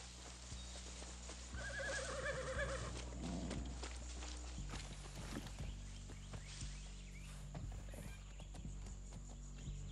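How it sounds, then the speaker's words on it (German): Horses neigh and trot through a forest in the video game Far Cry 6, with hoof clip-clops and whinnies heard fairly close, set against a steady low ambient bed. "In diesem Wald trainieren Soldados ihre Pferde."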